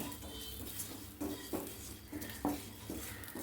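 Rice is stirred and roasted in a pan with a spoon or spatula, producing intermittent scraping and clinking scoops every half second or so, close and moderately quiet with a soft background hum.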